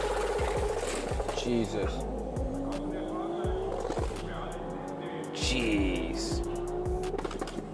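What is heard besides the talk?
Mercedes CLK engine revving and accelerating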